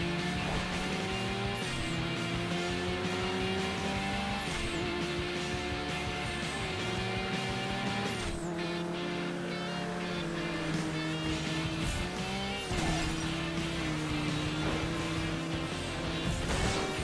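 Racing cars in Burnout 3: Takedown, engine tones droning and shifting pitch continuously, with crashes and smashing impacts breaking in around the middle, steady throughout with no voices.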